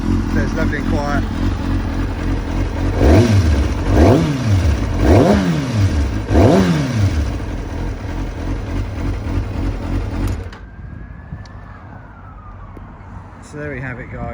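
A 2004 Kawasaki ZX636 B1H motorcycle engine idles loudly up close, then revs four times in quick swooping blips before cutting out, leaving quiet room noise with a faint whine.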